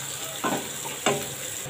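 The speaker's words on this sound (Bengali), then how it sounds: "পেঁয়াজটা লাল লাল করে ভেজে নেব।" Chopped onion sizzles in oil with bay leaves and black cumin for a spicy fish curry, a steady close hiss broken by two louder bursts as a spatula stirs the pan. No one speaks.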